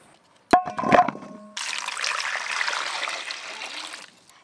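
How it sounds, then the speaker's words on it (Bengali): Large potatoes rinsed under running water for aloo paratha, a few clattering knocks and splashes first, then a steady gushing stream of tap water that continues evenly for several seconds before stopping. "এখানে তো আলু ধোয়া শুরু করে দিয়েছে দিদি"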